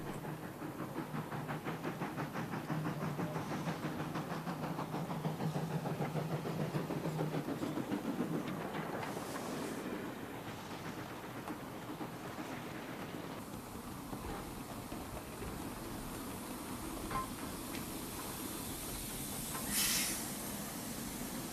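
LBSCR Terrier steam tank locomotive 579 runs past on a heritage line, a steady broad hiss and rumble with faint rail clatter that holds for a long stretch, ending in a brief brighter burst of steam.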